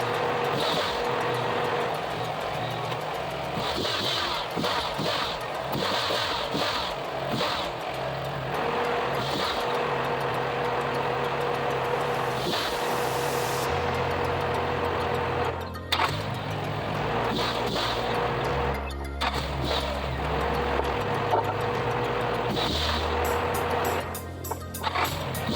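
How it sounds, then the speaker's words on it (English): An abandoned car, left sitting for a year, idles with a steady, loud engine rumble throughout, with a few sharp knocks and rev changes toward the end. "It looks like the car is running okay, but let's find out if it will stay running."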